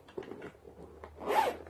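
A zipper pulls shut across the front pocket of a handbag, starting with faint soft rustling and ending in one brief, close zip.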